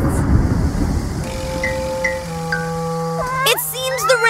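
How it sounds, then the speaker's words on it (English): Rain and low thunder rumble in a summer cartoon scene, a dense wash of rainfall that gives way to tonal music and a cartoon voice toward the end. "It seems the rain arrived before the bunnies."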